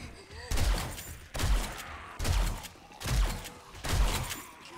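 Grenade blasts in the zombie survival video game 7 Days to Die, with the Darkness Falls mod, arrive as a series of loud, booming, crackling explosions roughly once per second, dense and close.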